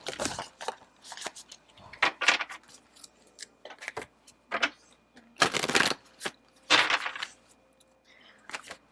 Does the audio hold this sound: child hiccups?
no